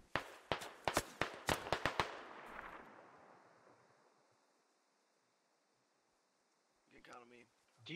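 Gunfire in the military shooter game Squad: a rapid run of about eight sharp, loud shots over two seconds, each echoing out into a fading rumble, then a quiet stretch before a voice briefly speaks near the end.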